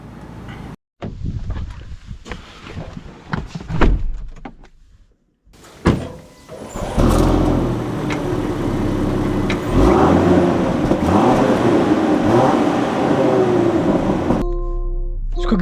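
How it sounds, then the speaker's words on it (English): A 2025 Land Rover Defender with an inline-six pulls away after a couple of door thuds, its engine rising into a steady, loud, close drone that holds until a sudden cutoff near the end. "Setting off in the Land Rover Defender."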